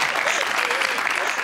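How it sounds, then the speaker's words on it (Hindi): Steady audience applause fills a talk-show studio, dense and continuous at fairly close range, with no voices rising above it. "तालियां."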